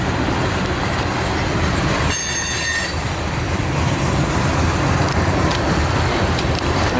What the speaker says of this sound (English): There goes 420. Off he goes.